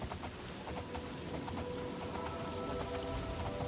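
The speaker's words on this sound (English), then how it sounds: "And I truly hope this rain is gonna" Steady rain falls in a fantasy role-playing game market district, pattering on the player's armor with a constant broadband hiss, plus faint rhythmic clip-clop taps mixed into the wash.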